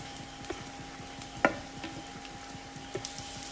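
Onion, green chilli and curry leaves frying in a pan, a steady low sizzle with a few soft scrapes and clicks of stirring, alone without talk.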